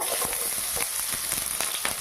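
Chopped onion, along with chopped garlic, frying in mustard oil in a wok, a continuous close sizzle with soft scraping stirs at a steady pace.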